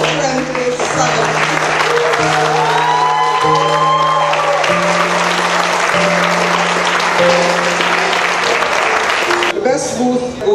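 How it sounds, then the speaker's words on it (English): A crowd gives sustained applause at a CWWA awards dinner, loud and continuous clapping with some cheering, accompanied by a steady musical tone that shifts pitch partway through. "lend a warm round of applause"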